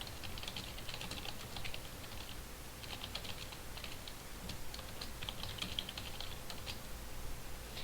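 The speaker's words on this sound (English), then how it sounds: "I was typing." Someone types on a computer keyboard in quick, irregular bursts of light clicking that is close and soft, with no talking over it.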